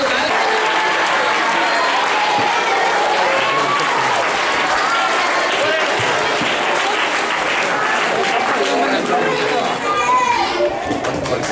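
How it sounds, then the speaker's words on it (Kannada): Schoolchildren clap and cheer together at a school birthday celebration, a dense, steady wash of applause mixed with children's voices that holds at an even loudness for the whole stretch. "ಎಲ್ಲ ಮಕ್ಕಳು ಚಪ್ಪಾಳೆಯ ಮೂಲಕ"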